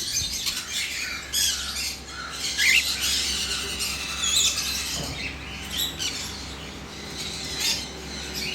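A pair of adult pet Rosella parrots gives repeated harsh squawks close by, with sharp calls spread throughout over a steady low background hum and no talking.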